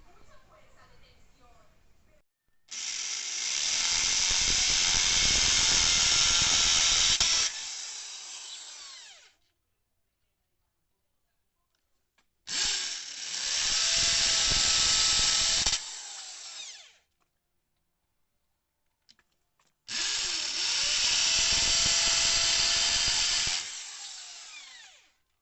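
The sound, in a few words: drill press boring holes in wooden window profiles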